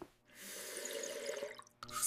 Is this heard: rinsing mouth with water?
yes